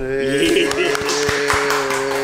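A handful of separate claps on a Yogyakarta food-talk show set, spaced irregularly and fairly soft, heard under a sustained musical tone and people talking.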